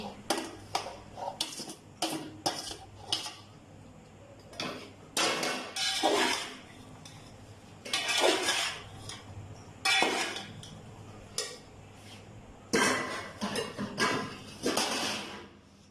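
Cooked pasta being stirred into white sauce in a pan for a chicken pasta dish, with scattered close clinks and scrapes of a utensil against cookware coming in uneven bursts and pauses.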